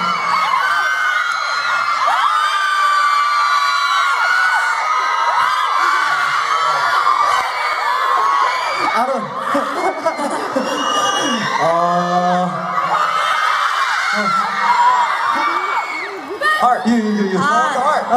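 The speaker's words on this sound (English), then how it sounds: "How can we decide the fan who is going to scream the loudest?" Fans at a K-pop fan event in Singapore scream and cheer loudly in a sustained, high-pitched crowd roar, with shrieks and whoops rising and falling over about eighteen seconds, and voices talking through it.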